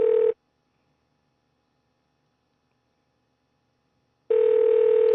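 Telephone ringback tone on an outgoing call: a steady buzzing ring that cuts off after a moment, followed by several seconds of silence before the next ring begins.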